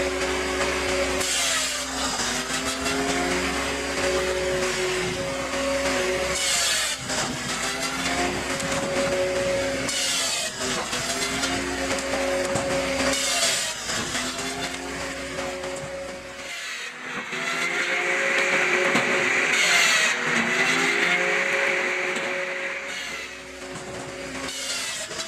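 A Cord King wood splitter works through raw logs, turning them into firewood with a loud, continuous mechanical roar and grinding that rises and falls in long stretches, with no talking.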